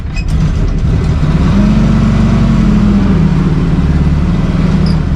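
A 1953 Willys Jeep CJ-3B engine runs close by, a loud, steady low rumble that rises slightly in pitch midway as it revs a little, then settles back to an even idle with no voices over it.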